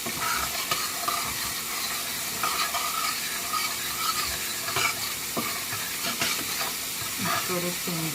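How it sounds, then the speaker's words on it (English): A spoon stirs a vinegar and sugar mixture in a bowl for a Jamaican dish, giving a steady close scraping and swishing texture throughout with faint background noise. "Then I'm gonna mix it together."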